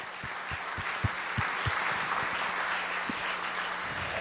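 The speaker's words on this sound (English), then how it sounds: "Let's give them a round of applause again." A room audience claps for the candidates after a local candidate debate, a steady wash of applause over a low hum, with a few louder individual claps standing out.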